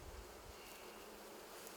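Bees in an open hive with brood give off a steady, close, soft buzzing drone that holds evenly throughout with no talking.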